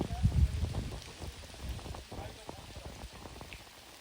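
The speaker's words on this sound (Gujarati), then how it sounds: "તમે જોઈ શકો તો વરસાદ પડી રહ્યો છે" Rain falls by the swollen Narmada river at Nareshwar, a dense patter of drops on surfaces, heavier at first and then easing slightly, continuous throughout.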